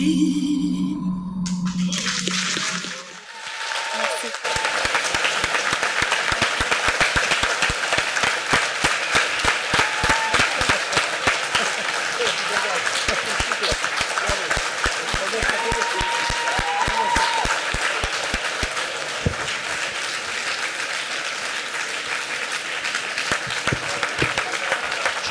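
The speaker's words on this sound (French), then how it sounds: "Vous pouvez applaudir très fort." Audience at a French climate-plan event breaks into loud sustained applause after a short speech segment, a dense clapping wash that continues steadily to the end.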